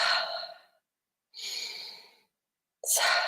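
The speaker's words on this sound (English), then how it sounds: "our breath makes that noise" Slow, deliberate breaths during a guided breathing exercise come in three long audible exhales, near and breathy, separated by silent pauses, with the last breath starting more sharply.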